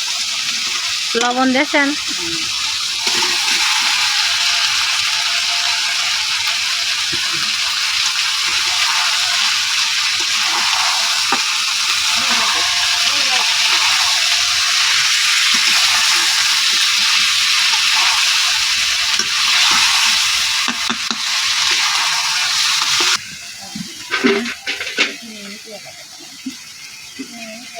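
Chicken roast frying in a pan with homemade spices gives a loud, continuous sizzle and hiss, with clattering stirring and people talking near the end.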